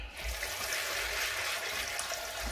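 Hands swish and stir through water while washing .22 air-rifle pellets, a soft, close, continuous splashing and trickling with no voices.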